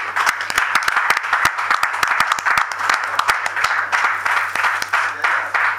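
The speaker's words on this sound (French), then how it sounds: "si je vous demanderai d'applaudir très très très fort" Supporters at a political campaign launch applaud an honorable senator, sharp individual hand claps ringing out in an uneven rhythm over a broader wash of clapping, with a low steady hum underneath.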